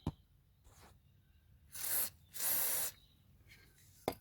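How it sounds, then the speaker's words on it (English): Two sustained hissing bursts of aerosol spray onto a bolt on a 1998 Honda Civic trailing arm, each about half a second long, close up, with small clicks before and after in a quiet space. "Make sure you give it a spray."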